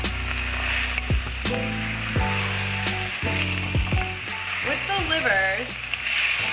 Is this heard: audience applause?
no